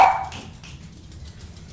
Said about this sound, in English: A dog runs through the village